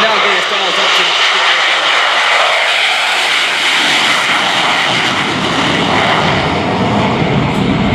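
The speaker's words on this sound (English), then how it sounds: "Watch as the aircraft accelerates only a few feet above the ground." An F/A-18E Super Hornet jet roars loudly and continuously as it accelerates a few feet above the ground during a flying demonstration at the 2017 Melbourne Air & Space Show.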